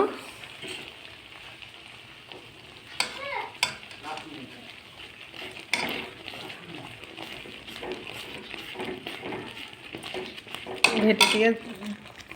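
Boiled food, lentils for a sour-curd dish, is stirred and mashed in a metal pot. Irregular scraping and knocking strokes come close and moderately loud, with a brief burst of clattering near the end.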